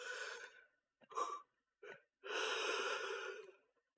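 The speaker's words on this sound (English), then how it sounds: "And that's a yawn." A person's yawn: a long breathy exhale, a few short catching breaths and gasps, then a drawn-out voiced sigh at close range, with no other sound around it.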